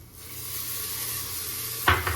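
Ginger garlic paste fries with browned onions in a pan, giving a steady hiss of sizzling fat and then a couple of sharp stirring scrapes near the end. No one speaks.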